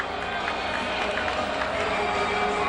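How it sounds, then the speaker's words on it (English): Steady roar of a crowd cheering at an indoor arena football game, a dense continuous wall of voices at constant loudness with a commentator talking over it. "Gets the approval from the crowd."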